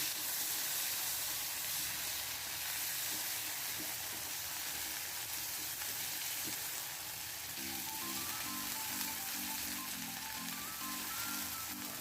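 Cumin and ginger paste sizzle steadily while frying in a pan for mung dal with ridge gourd, poppy seed and fish heads, a continuous dense hiss throughout with a faint tonal hum in the latter part.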